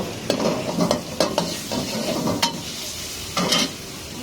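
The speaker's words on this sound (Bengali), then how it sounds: "রসুন আর হচ্ছে মাখন দিয়ে প্রথমে চিকেনটা ভালো করে ভেজে নিব একটু ব্রাউন কালার হওয়া পর্যন্ত" Chicken fries in butter with garlic in a pan, a steady sizzle broken by several sharp spoon scrapes and clacks as it is stirred, close and fairly loud.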